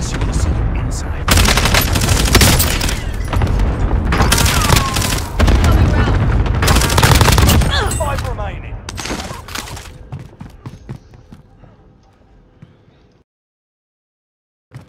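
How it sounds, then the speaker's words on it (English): Dense, rolling blasts and crackling explosions from a cluster strike airstrike in Call of Duty Warzone on Rebirth Island, loud for about eight seconds before fading into softer scattered pops and then near silence. "Cluster strike away."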